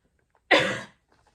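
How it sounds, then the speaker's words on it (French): A man gives a single harsh cough in the background, a short burst in an otherwise quiet indoor room. "Et vous entendez monsieur qui est en train de tousser."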